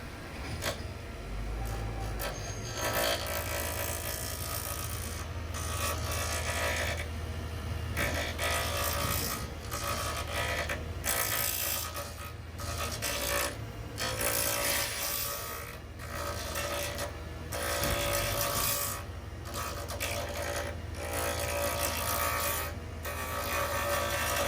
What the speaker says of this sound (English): with the lathe up to speed, I'll start out by making super light passes with the gouge